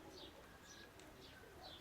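Pigeons coo faintly in a soft, repeated rhythm of several short calls, with no voices.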